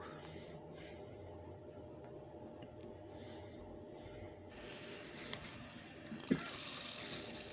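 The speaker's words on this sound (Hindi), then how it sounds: "ये देखें शावर की तरह हाई प्रेशर मिलेगा जैसे आपको जो नहाने वाला शावर होता है आपको पानी देता है उसी तरह ये शावर देगा" Water runs from a kitchen sink tap fitted with a shower-style sprinkler attachment, a steady, quiet hiss that grows fuller and louder toward the end, with no talking.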